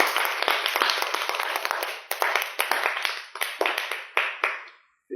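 An audience at a French-speaking gathering claps in sharp, distinct bursts, the hand claps close and crisp and arriving in uneven waves before stopping abruptly.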